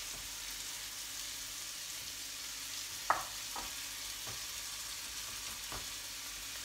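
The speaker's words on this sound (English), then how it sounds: "Potatoes, I'm gonna try and get them all in the pan." Sweet potatoes and onions frying in oil in a pan give a steady, even sizzle throughout, broken by a few sharp clicks and scrapes from a utensil, with no voices.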